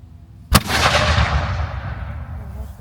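One cannon fires at a historical reenactment at Washington Crossing State Park in Titusville, New Jersey, a single sharp, loud blast followed by a long rolling outdoor echo that fades over about two seconds.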